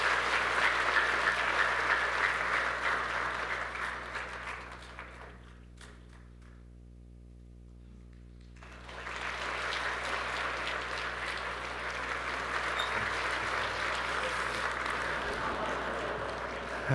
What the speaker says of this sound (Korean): 큰 박수로 축복하시겠습니다.